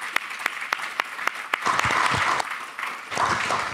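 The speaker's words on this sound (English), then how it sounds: "Round of applause for our panel." A seated meeting audience applauds a health and built-environment panel, starting with a few separate sharp claps that swell into fuller group clapping, with low murmuring and shuffling underneath.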